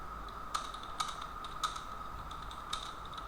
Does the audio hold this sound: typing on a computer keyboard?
yes